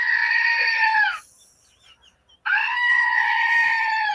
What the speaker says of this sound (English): It's a button that you press and it screams.